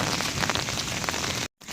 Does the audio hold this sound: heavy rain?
yes